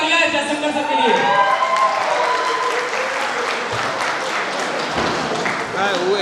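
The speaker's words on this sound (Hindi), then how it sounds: "एक जोरदार तालियां है" An audience breaks into loud, sustained applause at an event, dense clapping filling the space while voices carry over it.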